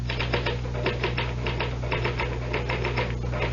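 A mechanical typewriter clacks in a steady rapid rhythm of keystrikes, close and continuous, with a low steady hum underneath and no talk.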